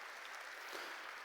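A church congregation applauds in a dense, even patter of many hands, faint and distant, sustained throughout without pause.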